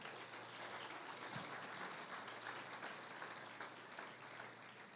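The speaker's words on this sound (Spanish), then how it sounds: "Dale un aplauso al Señor." A church congregation applauds together in response to a preacher's call, a steady broadband clapping that holds loud and even for the whole stretch with no voices standing out.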